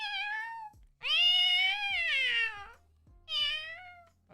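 Someone imitates a cat with three drawn-out, wavering meows. The middle meow is the longest and loudest, and all are close, with no other talking.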